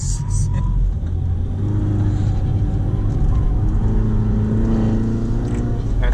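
Renault Sandero RS engine idling and revving with a deep, loud rumble at a track day, the car fitted with slick tires, running steadily throughout.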